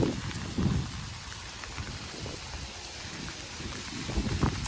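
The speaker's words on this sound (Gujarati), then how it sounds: "બહુ વરસાદ પડે અત્યારે કેશોદમાં" Heavy rain pouring onto a rooftop in Keshod during a downpour, a dense continuous hiss of drops beating on the surface, loud and unbroken throughout with occasional heavier splashes.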